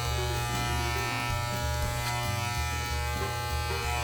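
Electric hair clippers buzz steadily and loudly through a home haircut, a continuous close mechanical hum with slight shifts in pitch as the blades move through hair.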